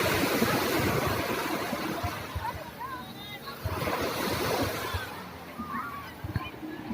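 Surf and waves rolling in at Spy Beach Resort in Quezon, a broad continuous wash with swelling surges, mixed with distant voices of people swimming and a person talking nearby.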